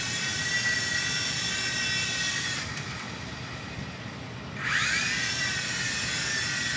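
Small E-Flite Blade MCX RC helicopter flying indoors, a close, high-pitched whining rotor buzz that dips and then swells again as the motor speed changes, with no other sounds.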